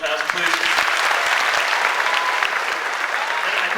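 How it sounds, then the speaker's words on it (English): Audience applause for Gabriel Thompson at a Joliet West High School talk, a dense, steady wash of many hands clapping that fills the room for the whole stretch, loud and close, with no talk over it. "Round of applause for Mr. Thompson, please."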